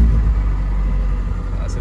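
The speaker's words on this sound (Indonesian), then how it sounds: "ini ada tombol buat start engine" An old car's engine fires up from a push-button start and settles into a steady, loud low rumble, with a voice talking over it.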